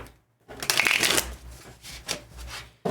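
Tarot deck being shuffled by hand, a few quick riffling bursts of card slaps and rubbing, close and crisp, with pauses between.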